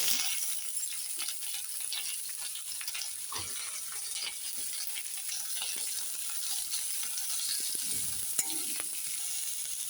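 Onions sautéing lightly in a pan with urad dal and dried red chillies for groundnut chutney, a faint steady sizzle with scattered scraping stirs and light clinks, close and quiet throughout.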